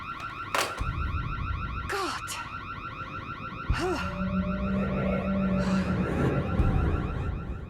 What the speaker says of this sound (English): Could you do something about the alarm?